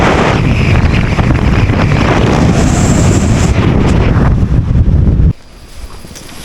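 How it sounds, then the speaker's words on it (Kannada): Strong wind roars steadily across the microphone on the Kabbalamma Betta hilltop near Kanakapura, loud and continuous with no talk, then drops sharply to a quieter hush near the end. "ನೋಡಿದ್ರಾ ಏನು ಗಾಳಿ ಬೀಸ್ತಿದೆ ಅಂದರೆ ಸೂಪರಾಗಿ ಗಾಳಿ ಬೀಸ್ತೈತೆ"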